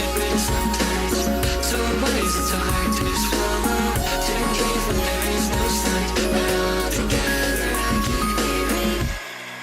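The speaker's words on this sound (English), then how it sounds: "So that disabled pattern maps to more jungle drums." A jungle drum pattern plays within a full electronic remix arrangement made in FL Studio, with dense, busy drums and layered synths running steadily before cutting off abruptly near the end.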